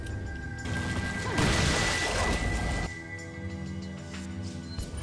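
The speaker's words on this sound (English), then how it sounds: "I want to watch her do the cool thing, smashing boxes." Wooden crates being smashed apart in Resident Evil 4, a loud burst of splintering crash and debris lasting over a second, set against a steady game soundtrack hum.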